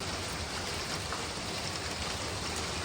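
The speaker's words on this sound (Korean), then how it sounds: "비가 오고 있습니다." Steady rain falls outdoors on a rainy morning, a continuous even hiss of drops spread across the whole clip with no talking.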